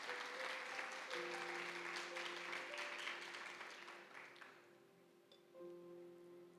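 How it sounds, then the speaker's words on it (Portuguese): A church congregation claps during a sermon, a soft, fairly dense patter that thins and fades out over a few seconds while a sustained organ or keyboard chord rings underneath. "Você pode aplaudir esse amor tão extraordinário?"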